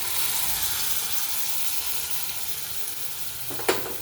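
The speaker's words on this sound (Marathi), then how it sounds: "आता आपण आपला मूग फोडणीला टाकूया" Green moong dropped into a hot spice tempering, a loud, hissing sizzle that fades gradually, then a sharp clatter of stirring near the end, with no voices.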